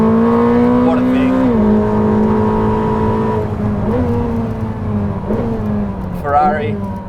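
A 1,000-horsepower Ferrari SF90 XX driven flat out around the Fiorano track, heard from inside as a loud, sustained engine whine that rises and drops with gear shifts and throttle lifts, under steady road and wind noise.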